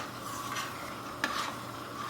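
Sour cherry jam is stirred in a pot, a soft steady scraping and swishing with a faint bubbling sizzle, one brief sharper scrape midway, close with no talk.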